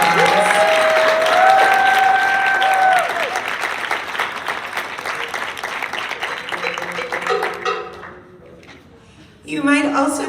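An audience applauds a soloist at a concert, sustained clapping with a faint cheer that tapers off, and a person then speaks over the end.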